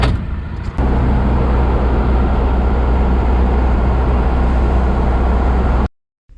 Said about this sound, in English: there's traffic flying by me at 70